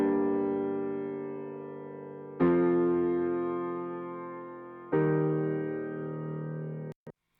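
A plain piano with no added octave plays three sustained chords that each ring out and slowly fade, then stop abruptly into silence.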